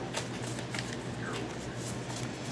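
Tarot cards are shuffled, giving a brief, close, continuous riffling and rustling with no distinct speech.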